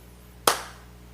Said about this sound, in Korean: 발을 막 구르면서 손뼉을 치면서